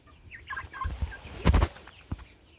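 A chicken clucks close by in short bursts, with a few soft calls and one louder flurry of clucks, alone with no talk.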